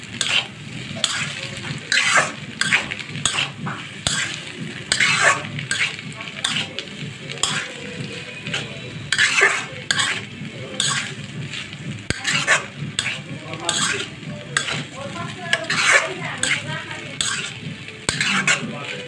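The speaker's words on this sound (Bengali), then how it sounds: "সস দিয়ে ভালো করে নাড়াচাড়া দিয়ে" Pasta being stirred through sauce in a pan, a steady frying sizzle broken by repeated scraping and clinking strokes of a utensil against the metal, close and moderately loud with no voices.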